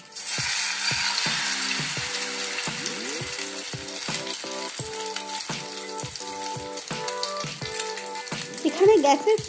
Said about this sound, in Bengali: ডিমের গোলার মধ্যে ডুবিয়ে নিয়ে আমি আস্তে করে ওটাকে দিয়ে দেবো ফ্রাইং প্যানে